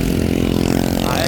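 A motorcycle engine runs steadily at close range, a continuous buzzing drone with a slight revving swell and no voices, as a newly learned rider heads along a road toward the Bhatsa dam.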